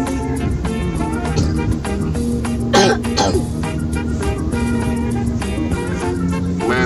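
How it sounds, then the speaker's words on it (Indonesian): Coughs and throat clearing from the back seat of a car on a road in Kendari, a couple of sharp bursts over the steady rumble of the moving vehicle. "Di belakang ada suara batuk."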